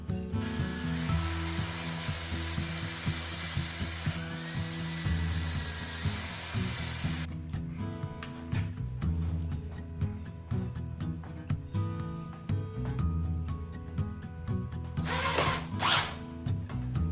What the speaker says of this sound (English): I attached all the framing with screws and wood glue as well